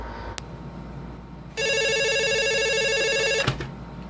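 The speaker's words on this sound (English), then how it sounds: "Ringing the police department." An old telephone rings in the classic radio drama Sorry, Wrong Number: a single loud, sustained bell trill lasting about two seconds, cut off sharply by a click, over a quiet line hiss.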